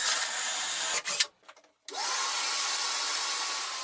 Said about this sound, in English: I also drill 2 holes to each side.